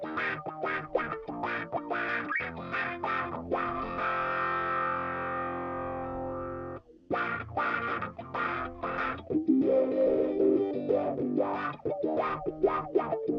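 Electric guitar recorded direct and run through effects such as wah and distortion, choppy quacking riffs broken by a long sustained note, then more rhythmic wah-filtered playing, close and upfront with no talking.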